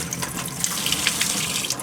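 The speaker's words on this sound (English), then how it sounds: "it's just easy to run the water over it and rinse them off really well" Tap water runs steadily over a small strainer while tomato seeds are rinsed, a close, continuous hissing splash with no talking.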